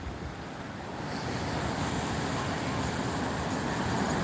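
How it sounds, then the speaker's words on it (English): Ocean swells surge and wash continuously along a shoreline, a broad, steady roar of surf mixed with wind buffeting the microphone. "There's the swells right now."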